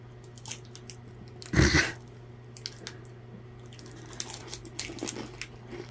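Someone bites into a British honeycomb crunch chocolate bar, with one loud crunchy bite followed by softer chewing and small crackles close to the mic.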